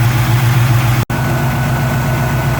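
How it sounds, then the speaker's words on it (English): Warm Chevy 350 V8 idling with an electric cooling fan running during a lifter adjustment, a steady loud low rumble with a slightly noisy, ticking valvetrain texture, briefly dropping out for an instant before resuming. "my electric fan's going and the engine's kind of noisy"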